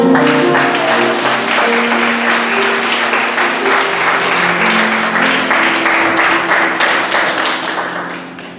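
A church congregation applauds during a Sunday worship service, dense and loud clapping sustained for several seconds before tapering off at the end, with no talk over it.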